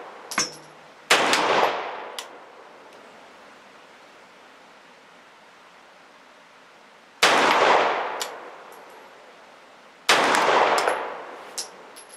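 A CZ Vz Skorpion .380 pistol firing at an outdoor range: several sharp, loud shots in a few separated bursts, each ringing out and decaying over about a second, with quiet pauses between and no talk.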